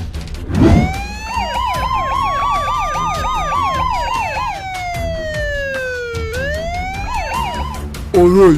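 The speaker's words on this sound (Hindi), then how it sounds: "अरे ये तो पुलिस की गाड़ी है," Animated police car siren wailing loudly and close, a warbling yelp that sweeps up and down repeatedly, briefly gliding into a long falling tone before warbling again, with a thump at the start.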